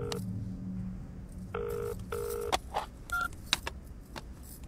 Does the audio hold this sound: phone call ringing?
yes